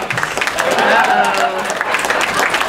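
Sustained comedy club applause from the audience at the Joke Joint, steady clapping and crowd murmur with a voice speaking over the middle stretch.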